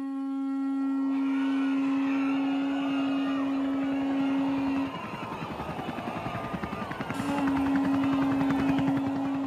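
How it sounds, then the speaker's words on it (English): A helicopter in a game, set during a city attack, whirs with a steady droning rotor hum and engine whine that dips midway into choppy blade thumps, then returns to a loud continuous tone. "We gotta go on the helicopter now."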